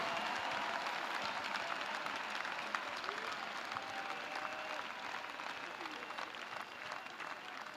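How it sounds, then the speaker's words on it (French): A congregation claps together in sustained, dense applause during an evening prayer and intercession service, a steady wash of many hands that stays even and fairly soft throughout. "Let us clap."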